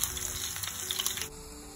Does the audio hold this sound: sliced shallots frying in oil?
yes